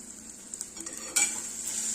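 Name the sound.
stirring matki masala in a pan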